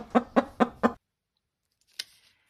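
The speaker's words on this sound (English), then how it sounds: "I hear a hen" A hen clucks four times in a quick, even burst, then falls silent before one short, sharp cluck near the end.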